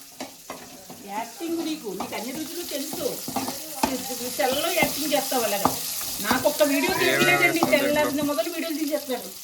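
Food fries in oil in a pan with a hissing sizzle and intermittent stirring scrapes, while people talk over it almost throughout.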